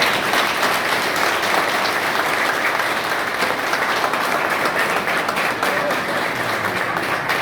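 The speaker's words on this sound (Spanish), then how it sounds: "les quiero pedir que juntos le demos un aplauso a estos candidatos" An audience at a Paraguayan presidential campaign event in 2022 applauds the candidates with sustained, dense clapping that stays loud and even across the whole stretch.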